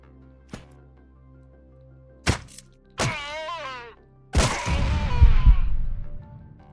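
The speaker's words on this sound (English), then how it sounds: "That's always a problem when they throw grenades, is where the grenade went." A grenade explodes in the sci-fi tactical game Quasimorph: a sharp thunk and crack lead into a loud, broad blast that roars and rumbles for a couple of seconds, with a tonal whooping sound just before.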